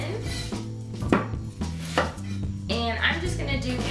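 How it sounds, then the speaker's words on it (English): A knife rough-chops a yellow onion on a cutting board in a kitchen, giving a quick run of close, sharp clacks and thuds with clattery knocks between them. No one speaks. "I'm just going to do rough chops to this because it's for a chili"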